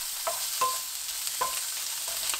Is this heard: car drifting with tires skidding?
no